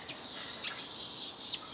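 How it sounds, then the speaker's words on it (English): Small garden birds chirp and tweet in a cottage garden in February, a continuous layer of high, bright calls overlapping at moderate distance, with no talking. "I don't know if you can hear all the birds behind me"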